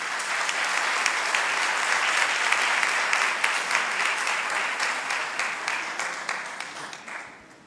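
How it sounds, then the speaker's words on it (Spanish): An audience at a business opportunity meeting breaks into sustained applause, dense clapping from many hands that gradually thins and fades out at the close. "Un aplauso a Inmunotech"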